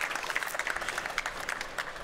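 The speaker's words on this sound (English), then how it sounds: "give my experts a warm round of applause" An audience at a beverage industry forum claps for the expert panel, a light, fairly quiet patter of applause throughout.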